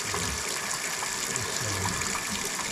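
Hot tap water runs steadily into a coffee cup, a continuous close gushing stream with no talk.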